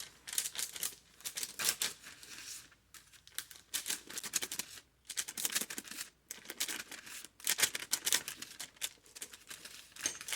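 A buttered knife slices through homemade maple syrup marshmallows, giving soft, close crinkling and tearing cuts in irregular bursts separated by brief pauses.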